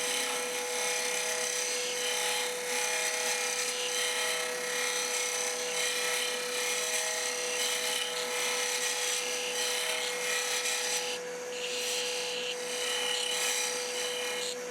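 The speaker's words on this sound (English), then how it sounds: "This is my multi-tool. Go ahead, a shoulder off." An oscillating multi-tool cuts a shoulder on a small wooden tenon for a finial, giving a steady, loud, close buzzing rasp that runs without a break, with a slight change in tone near the end.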